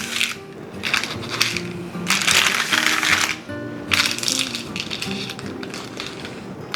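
A knife cutting a corner of warm fruit crumble bars in a pan, several close bursts of crunchy scraping and crumbly crushing, separated by short pauses.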